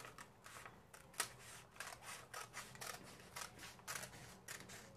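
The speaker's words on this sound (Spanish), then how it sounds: "Y vamos a recortar por mi nueva cintura." Scissors cut through a paper shorts sewing pattern along the waistline in a quick run of crisp snips, close and fairly quiet, with no talking.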